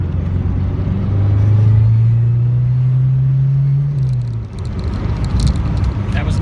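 A Ford Mustang SVO turbocharged engine running on premium fuel, its loud steady drone rising in pitch and then dropping as the turbo boost surges on its own, with a hissy rush near the end.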